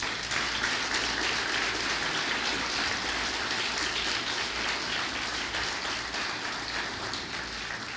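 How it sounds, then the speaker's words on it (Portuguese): Steady, dense applause from a church audience at a Portuguese-language sermon, filling the whole stretch at an even level with a hiss-like wash and no voice on top. "Você pode aplaudir o nome de Jesus?"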